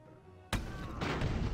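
Cannon fire booms out from airships in the strategy game Airships: Conquer The Skies, with one sharp loud blast followed by a second rolling burst of gunfire, dense and close.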